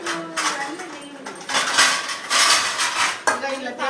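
Plates, dishes and cutlery clatter and clink close by in a home kitchen, with bursts of scraping and knocking throughout while a person talks intermittently over the handling.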